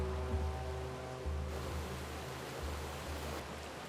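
Stream water flows steadily over potatoes soaked in a Quechua village in the Andes of Peru, a continuous broadband rush with a low steady hum beneath and no voices.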